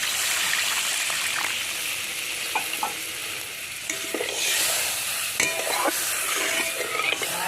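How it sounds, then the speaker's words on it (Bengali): Water goes into a hot pan of village-style fish curry with fried aubergine, hissing and sizzling steadily with a trickling pour and scattered stirring clicks, fairly close and continuous with no talking. "পরিমাণ মতন জল দিয়ে দেবো"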